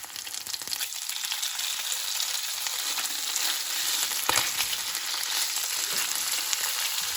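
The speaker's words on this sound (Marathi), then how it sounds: "आनी आमी आतां तें नुस्त्याक पोवया" Salmon fish frying in a pan gives a dense, steady sizzling crackle, close and fairly loud, with occasional sharper pops and stirring scrapes and no talking.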